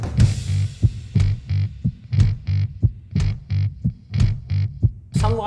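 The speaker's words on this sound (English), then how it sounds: "that creates a little bit of rhythmic dissonance between the heartbeat sample" A heartbeat sample in a music track thumps in doubled beats at a steady pulse, set against a distorted, droning bass line. Sharp accents cut through the mix.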